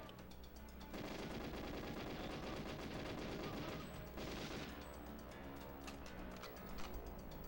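GoldenEye 007 on the N64 plays bursts of rapid automatic gunfire that run for several seconds. The firing stops briefly, then resumes with more scattered shots that stay loud and close.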